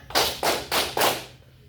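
Four sharp hand claps in a steady, evenly spaced rhythm, close and loud, from a counting clapping game during a classroom peer-teaching lesson.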